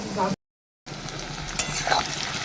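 Crab cooking in a pan gives a steady close sizzle and frying hiss with stirring, broken by a short moment of silence near the start and then resuming.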